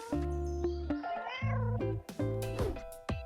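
A cat meows several times in quick succession, loud and close. The drawn-out, wavering cries have brief breaks between them.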